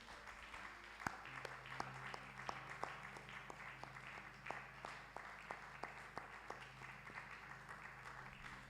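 A church congregation claps together during a worship service, a steady run of sharp, fairly even claps at a moderate pace, continuing throughout at a low, somewhat distant level with no talking over it.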